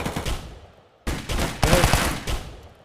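Gunfire rattles in the mobile shooter Hazmob FPS in two clustered bursts, the second one louder and denser, separated by short lulls, close and harsh against a dull background.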